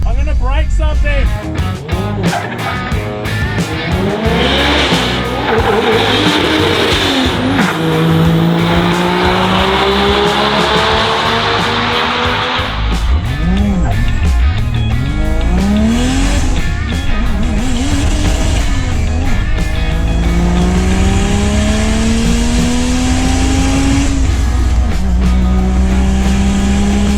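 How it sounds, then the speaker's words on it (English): Loud, close drag-racing cars roar off the line and climb repeatedly through the gears, their engine pitch rising in long sweeps. Traces of tire squeal and voices sit under the constant din. "We're bloody drag racing."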